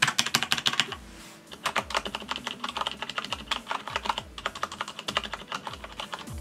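Rapid, irregular keystrokes on a Corsair K95 RGB mechanical keyboard fitted with O-rings, sharp clicky taps in dense bursts with a brief pause near the start, close and alone.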